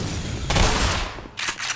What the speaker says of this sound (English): at least you can jib people with the shotgun.